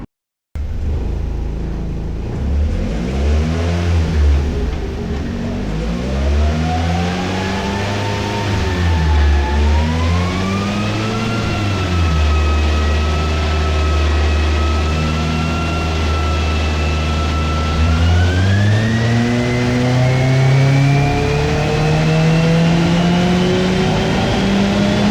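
A car engine revs on a dyno during tuning after a ROM flash, loud and close, rising and falling in long sweeping pulls that climb steadily higher toward the end, with no talk.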